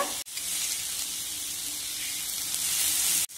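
Onions and tomatoes fry in a pan for an egg kothu bread dish, giving a steady, close, hissing sizzle that continues throughout, broken only by two very brief dropouts.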